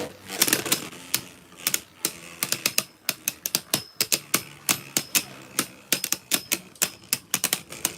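Beyblades spin and clash in a stadium, giving rapid irregular sharp metallic clicks and impacts in dense bursts, close and fairly loud.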